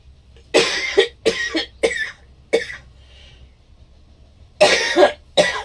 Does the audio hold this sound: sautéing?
no